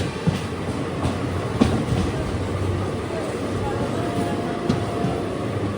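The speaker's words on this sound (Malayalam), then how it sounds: "പാലക്കാട് നിന്നും 672 കിലോമീറ്റർ യാത്ര ചെയ്ത് ട്രെയിൻ ഇതാ MGR ചെന്നൈ സെൻട്രൽ റെയിൽവേ സ്റ്റേഷനിലെത്തി." A superfast sleeper train pulls into MGR Chennai Central railway station, with a steady rumble and soft clattering of wheels over the rails and occasional clanks, heard from on board.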